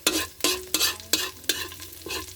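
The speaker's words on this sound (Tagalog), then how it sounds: "haluin lang muna natin" Kinhason seashells are stirred in a cooking pan, with about six scraping, rattling strokes at a steady rhythm over a continuous low sizzle, close and clear with no talking.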